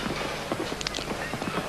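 Racehorses gallop in a 1999 handicap hurdle at Newbury, their hooves drumming in a quick, steady rhythm beneath a constant wash of broadcast and crowd noise.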